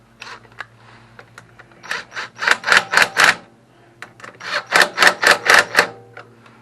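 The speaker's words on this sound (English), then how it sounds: "we'll go ahead and torque them down" A ratchet works in two bursts of fast, sharp, close mechanical clicks while bolts are tightened with a torque wrench on a Cub Cadet 524 snow blower engine, with a short pause between the runs.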